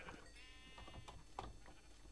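Sheep bleat in the Minecraft video game, a few short nasal baa calls spread across about two seconds, close and moderately loud over a faint background.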